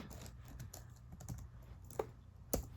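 Quiet typing on a computer keyboard, with soft, irregular key clicks and a couple of louder taps near the end, and no talk.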